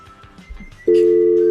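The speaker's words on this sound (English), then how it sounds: "I could get his number from what you just dialed." A telephone is dialed: after a few soft clicks and low sounds, a loud, steady electronic tone sets in and holds, close and alone with no talk.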